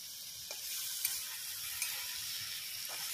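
Potatoes sizzle and fry in a wok, a steady bright hiss with a few soft stirring scrapes, fairly quiet and without any voices.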